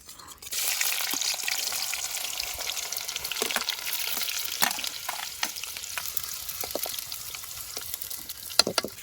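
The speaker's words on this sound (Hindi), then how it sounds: "अभी हम यहाँ पे ग्रेवी की तैयारी शुरू कर देते हैं। तो सबसे पहले अभी हम प्याज को डालेंगे।" Chopped onions drop into a hot pan for an outdoor gravy and start frying with a sudden, steady close sizzle that crackles and pops throughout, with occasional sharper spits and stirs.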